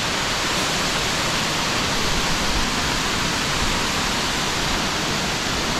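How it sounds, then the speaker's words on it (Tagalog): Scatter Falls at Ng Tung Chai roars as a steady, dense rush of falling water, loud and close, with no break throughout. "Ayan yung baba ng Scatter Falls."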